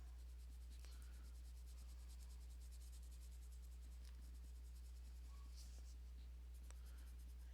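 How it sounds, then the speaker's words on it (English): Zenacolor colored pencil shading on paper, a continuous soft scratchy rasp of the lead strokes, close and quiet over a low steady background hum. "I'm just going to lift up the pressure off of my pencil"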